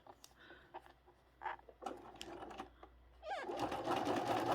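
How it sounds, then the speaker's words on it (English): A sewing machine stitches a quilt piece for a Drunkard's Path block, its rapid mechanical whir starting in short bursts, then running steadily louder toward the end, close up with a few handling clicks. "then we're going to sew this piece"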